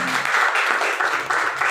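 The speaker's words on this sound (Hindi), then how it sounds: "एक बार जोरदार तालियां होनी चाहिए" A crowd bursts into loud, continuous applause at a health product talk, dense clapping sustained and fairly close for the whole short stretch.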